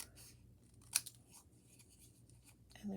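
Scissors snip paper house pieces for a card: a single sharp close cut stands out against a quiet background, followed by faint rustling of paper.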